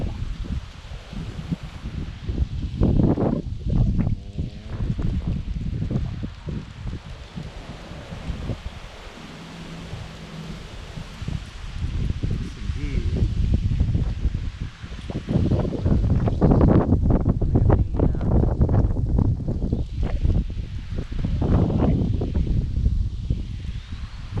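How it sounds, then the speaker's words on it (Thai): Strong gusty wind during a storm in Lopburi, Thailand, buffeting the microphone in loud irregular blasts that surge and ease, with rustling leaves behind and no talking. "ก็ลมแรงมากนะครับ แล้วฝนตกหนักมากวันนี้ก็เหมือนกันครับ"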